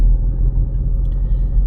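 A car drives through the Kranichstein district of Darmstadt, Germany, heard from inside as a loud, steady low-frequency road and engine rumble with no voices.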